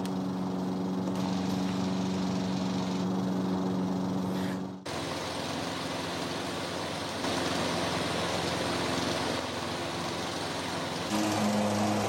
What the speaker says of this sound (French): Tondeuse Viking, elle vous survivra.